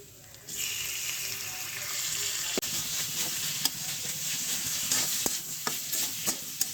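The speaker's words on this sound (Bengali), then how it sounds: "এই আড়াই এক মিনিট মতন নেড়ে চেড়ে নেবো ভাজা হতে হতে" Prawns (chingri) frying in a pan with yam for a coconut-milk curry, sizzling steadily while a utensil stirs and scrapes, with sharp clacks of the spoon against the pan; no one speaks.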